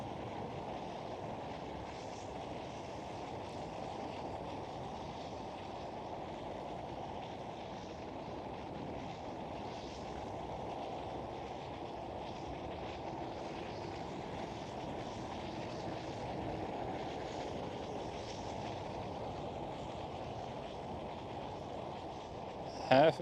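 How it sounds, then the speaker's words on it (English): A Singapore Airlines Boeing 747 departs Amsterdam Schiphol, heard as a steady, broad jet roar from some distance, with wind buffeting the microphone throughout and no voices. "There she goes, Singapore Airlines 747."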